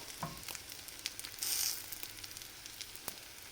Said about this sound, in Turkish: Yumurtanın böyle nar gibi de kızarttım